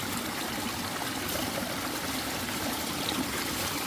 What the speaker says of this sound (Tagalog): patubig po sa palayan galing po sa sa ilalim po ng lupa yan oh